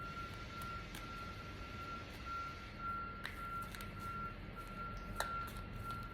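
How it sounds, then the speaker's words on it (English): A garbage truck reversing somewhere in the distance gives off a faint, steady electronic beeping tone that runs under a broad outdoor hum, with a couple of brief louder clicks. "I wonder if that's a garbage truck reversing."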